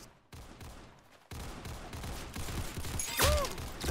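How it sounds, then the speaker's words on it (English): Rapid gunfire in the Roblox game Arsenal crackles as a dense, continuous volley, growing louder toward the end, with a brief high whistling tone near the close. "That's some beautiful shooting."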